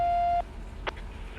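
A single steady electronic train warning tone in the Run8 Train Simulator game sounds for a moment and then cuts off abruptly, followed by a faint soft thump in quiet background.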